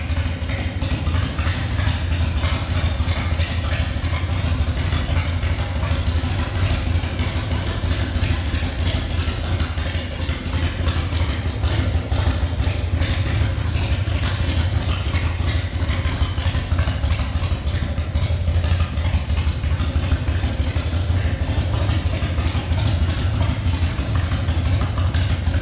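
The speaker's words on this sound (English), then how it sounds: "Bike sounds amazing." A Harley-Davidson Softail Custom FXST motorcycle engine idles steadily for the whole stretch, a loud, close, rumbling low-end throb with mechanical clatter on top and no voices.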